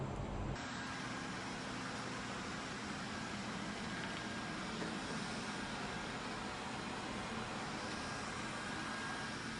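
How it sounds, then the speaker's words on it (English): Roborock S5 robot vacuum cleaning a floor, a steady broadband whir with a constant low motor hum running unbroken throughout, fairly faint and with no talk. "Here's a quick video of the Roborock S5 being used."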